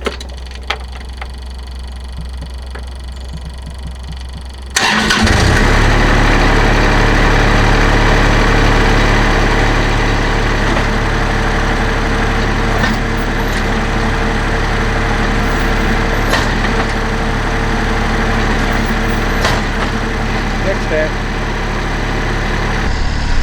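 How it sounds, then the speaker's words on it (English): A tractor loader's engine starts abruptly and settles into a steady, loud idle with its hydraulics running, a constant low drone and whine carrying on without a break. "So with the tractor fired up and trying to kind of listen, you could hear the hydraulics doing something."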